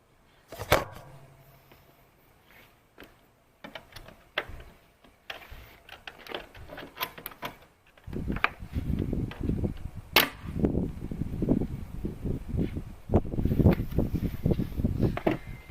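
Plastic roof covers being popped off a 2018 Toyota Prado 150 during a roof rack install: a handful of sharp clicks and snaps, followed by louder, steady rustling handling noise.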